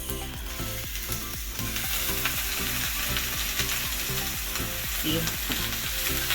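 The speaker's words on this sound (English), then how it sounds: "I'm gonna take it off the heat and I'm gonna hit it with this lime juice" Roasted potatoes and cauliflower sizzle steadily in a hot pan as lime juice hits them, a dense continuous crackle under a background music bed, with one brief spoken word.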